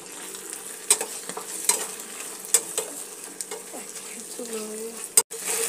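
Pasta ingredients with added sugar and salt being stirred in a pan, a soft steady sizzle beneath several sharp utensil scrapes and taps against the pan, with a brief tonal squeak near the end.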